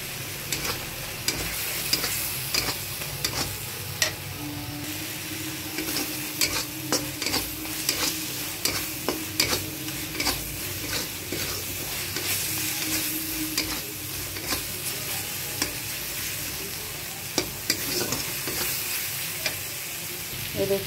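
Roasted masala fries in a pan for aloo chole, with a steady sizzle under repeated scraping and clinking of a spoon stirring close by, the rhythm uneven and busy throughout.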